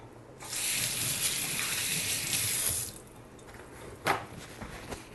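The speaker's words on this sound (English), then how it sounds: "let me rinse my hands off a sec." A kitchen tap runs for about two and a half seconds as hands are rinsed under it, a close steady splash, then stops, followed by a few faint drips and small clatters.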